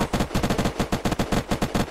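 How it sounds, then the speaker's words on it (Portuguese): Rapid automatic gunfire in the video game Unturned, a loud close burst of evenly spaced shots in a fast steady rhythm lasting about two seconds. "tá atirando coisa"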